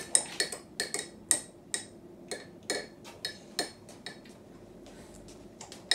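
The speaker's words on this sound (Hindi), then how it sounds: "mix it, mix it with what, with spoon" A small child stirs freshly made tea in a cup with a spoon, producing a series of close, sharp clinks at a steady, uneven pace against a quiet room.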